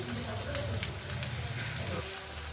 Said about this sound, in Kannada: ಅದಕ್ಕೆ ಸ್ವಲ್ಪ ಎಣ್ಣೆಯಲ್ಲೇ ಚೆನ್ನಾಗಿ ಫ್ರೈ ಮಾಡ್ತಾ ಇದ್ದೀನಿ